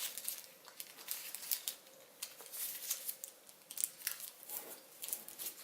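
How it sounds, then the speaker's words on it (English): Paper crinkles and creases in a run of quick, close rustles and sharp folding snaps while being shaped into an origami cactus, irregular and soft with no talk. "fold over this edge, and then fold this edge up"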